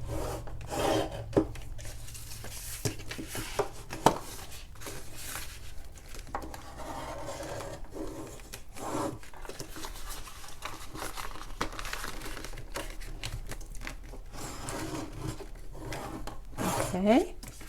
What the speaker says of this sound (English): use your bone folder to give it a really good press